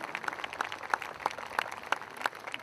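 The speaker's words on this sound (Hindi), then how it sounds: "एक बार जोरदार तालियां हो जाए उन लोगों के लिए" An audience at a film awards ceremony claps in a steady, dense wash of applause, with scattered individual claps standing out and no voices on top.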